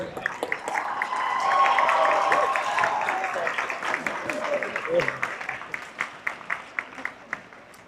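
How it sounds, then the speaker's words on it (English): A school assembly audience at a Veterans Day event applauds in a sustained wave of clapping that swells, then thins into scattered claps as a voice speaks over it. "Let's keep clapping it up for them, guys."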